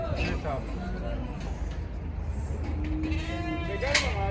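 Lambs bleat a few times nearby at a livestock market, their wavering calls rising over background chatter and outdoor noise.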